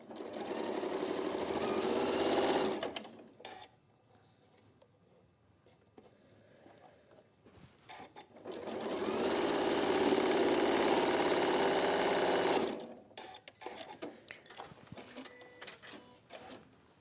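A sewing machine stitches fabric down in two long, steady, loud runs of whirring motor hum, separated by a quiet gap and followed by handling clatter.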